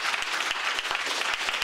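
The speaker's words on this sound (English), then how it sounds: "Let's really give another round of applause of this dynamic." A congress audience gives a brisk round of applause, with sharp individual claps standing out from a steady crowd clatter throughout the short burst.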